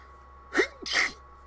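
A single sharp sneeze, a quick two-part burst, close and clear against a quiet background hum, from the game Apollo Justice: Ace Attorney.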